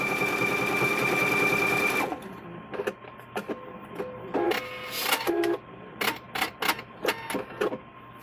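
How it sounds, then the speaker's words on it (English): A sewing machine stitches across the top of fabric while making door stops, running in a loud continuous whir for about two seconds, then stopping, followed by scattered clicks and handling knocks. "Stitch across the top here, and then we'll go back and we'll press this in half."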